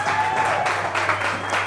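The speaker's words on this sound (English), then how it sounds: "So just give a round of applause for Ellison." Applause from a comedy show audience, a steady wash of clapping from the crowd lasting under two seconds, fairly loud with a low hum beneath it.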